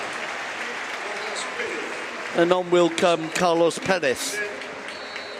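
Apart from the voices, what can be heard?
stadium crowd applauding Griezmann's substitution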